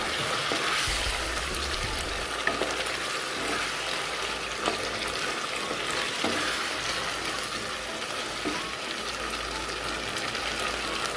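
Paneer sizzling and frying in a pan after a splash of water, with steady crackling spread evenly throughout and a few soft stirring knocks, loud and close, no voices.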